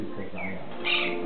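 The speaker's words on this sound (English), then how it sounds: "My bird is going to chit-chat with him now because he hears him chirping." Bird chirps and calls ring out over a steady background hum, with a brighter burst of chirping near the end.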